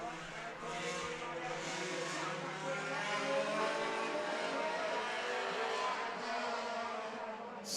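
Stock cars race past on an oval track at a memorial event, their engines a loud, continuous roar that swells and fades as the field runs side by side, with faint crowd or commentary beneath.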